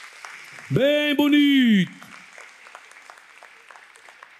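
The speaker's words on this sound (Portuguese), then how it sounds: "vamos aplaudir Jesus aí, irmãos" A church congregation at a praise and worship service claps in light, scattered applause that continues after someone speaks briefly over it.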